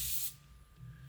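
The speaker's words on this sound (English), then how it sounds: "It's a haze in a can. It's called atmosphere aerosol" Atmosphere Aerosol haze in a can sprayed in a filming studio: a short loud hissing burst that cuts off, leaving a quiet room hum.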